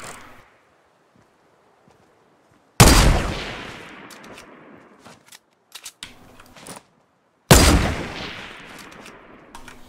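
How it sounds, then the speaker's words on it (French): Gunfire in the Fortnite video game, two loud sharp blasts a few seconds apart with decaying tails and a few quicker shot clicks between them, separated by near silence, with no talking. "Ah, qui me tire dessus"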